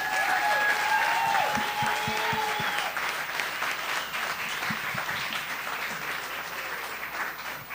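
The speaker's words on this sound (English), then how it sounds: "Ladies, round of applause for the two of you." An audience at a chef cooking competition gives a sustained round of applause, dense and continuous clapping that fills the room for several seconds.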